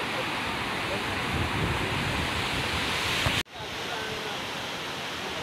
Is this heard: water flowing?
yes